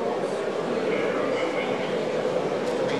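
An N scale digital (DCC) model train runs around a layout loop, giving a steady, continuous rumble and faint rail hiss that stays even throughout, with no pauses.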